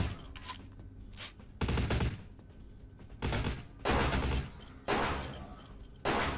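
Bursts of gunfire in Vampire: The Masquerade - Bloodlines, several loud rapid volleys separated by short quieter gaps, close and punchy.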